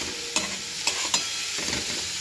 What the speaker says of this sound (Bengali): এটা একটু করে ভাজা হবে আর একটু করে নাড়তে হবে